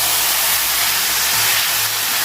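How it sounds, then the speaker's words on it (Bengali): Steamed cabbage frying in oil with dried red chillies, a loud, continuous broadband hiss and sizzle held steadily throughout, with no voices. "বাঁধাকপি ভাজতে থাকবে।"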